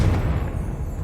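A Confringo fire-blast spell cast in Hogwarts Legacy, heard as one loud, close burst with a deep rumbling low end that settles into a steady roar and fades over about a second.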